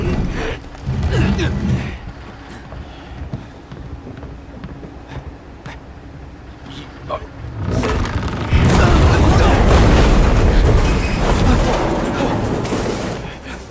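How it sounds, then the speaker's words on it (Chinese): Deep, heavy booms roll in repeatedly with wind rumble, building into a loud, sustained barrage of distant cannon-like fire. "我怎么听着像炮声？"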